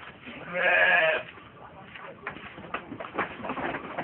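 Goats on a farm bleat before feeding, with one loud, nearby bleat early on followed by fainter rustling and animal noise, under quiet talk.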